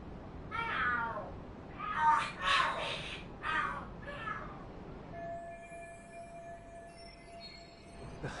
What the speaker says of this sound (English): The hell? Are there cats fighting?